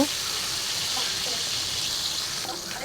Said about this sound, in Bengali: উল্টে পাল্টে একদম মুচমুচা করে লাল লাল করে ভেজে নিব।